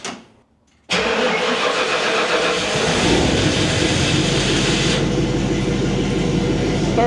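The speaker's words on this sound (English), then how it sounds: "Cold start." A big-block engine in a Ford Bronco cold-starts after a short quiet moment, catching at once and settling into a loud, steady, rumbling idle that holds close by with no talk.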